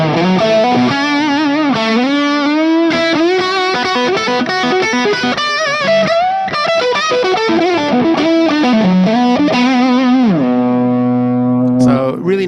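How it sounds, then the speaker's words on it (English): Electric guitar played through a Mesa/Boogie Lone Star amp with G-Force effects and a touch of echo, a fat, sustained lead line with bends and held notes ringing out alone, ending on a long chord. "This is just purely the Lone Star tone with the G-Force effects with a little echo."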